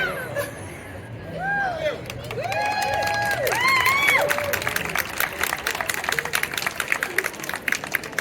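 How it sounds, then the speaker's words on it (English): Applause from an outdoor festival crowd at Bristol Harbour Festival after a dance performance swells and holds steady, with cheering and whoops rising over the clapping. "Keep the applause going as they get their first position."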